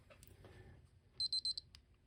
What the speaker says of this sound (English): well, the alarm's working.